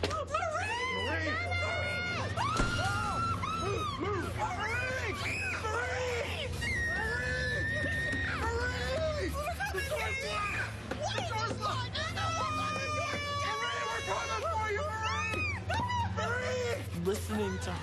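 A girl screams over and over in a horror video game, shrill and wavering cries that go on without a break over a loud droning backdrop of game sound and other voices.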